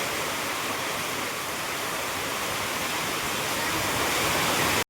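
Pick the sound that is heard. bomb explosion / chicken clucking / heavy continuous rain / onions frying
heavy continuous rain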